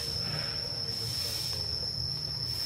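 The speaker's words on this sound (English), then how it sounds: "The sounds of the cicadas here." Cicadas drone in a steady, high, unbroken whine outdoors, loud and constant throughout, over a low background rumble of distant traffic.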